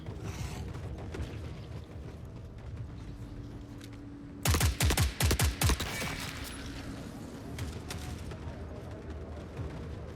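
A short burst of rapid video game gunfire from enemies crackles through in several quick volleys midway, loud against a quieter mechanical in-game background.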